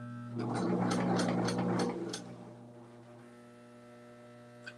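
An old sewing machine running on the floor while sewing baby shoes, a steady droning hum with a harmonic whir that swells for about two seconds, then settles to a lower idle hum.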